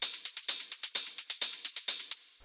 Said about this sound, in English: Next thing we have here is the hi-hats,